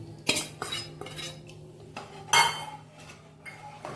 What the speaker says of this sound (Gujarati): દાળ સરસ રીતે હલાવી લઈએ એટલે બધું મિક્સ થઈ જાય